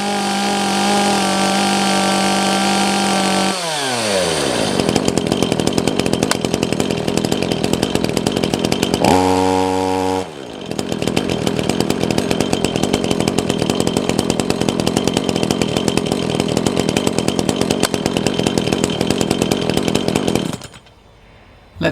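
A chainsaw idles steadily, then its revs drop and pick up again, and it runs loud and continuous for about ten seconds before shutting off. There is no talking.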